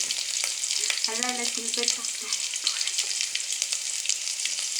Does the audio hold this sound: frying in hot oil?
yes